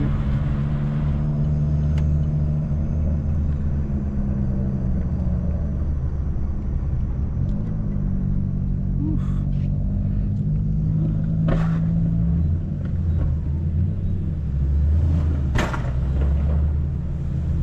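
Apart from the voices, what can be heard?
Mitsubishi Lancer Evolution X exhaust popping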